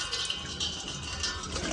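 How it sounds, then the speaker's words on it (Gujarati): Drinking water runs from a household tap into a container, a steady close rushing hiss with slight surges and no voices. "જો પાણી આવી ગયું, પીવાનું પાણી ભરવાનું"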